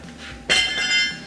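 A single sharp metallic clank as a cut steel frame-rail notch piece for a Chevy short-bed C-notch is dropped, ringing briefly afterward at close range.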